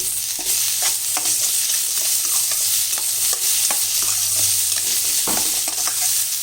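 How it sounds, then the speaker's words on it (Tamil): Garlic and onion sauté in a pan with a steady oily sizzle, punctuated by frequent close clacks and scrapes of a spoon stirring them, with no talking. "ஒரு பத்து பல் பூண்டு ஒரு பெரிய சைஸ் வெங்காயம் போட்டிருந்தா இதை நல்லா வதக்கிக்கலாம்"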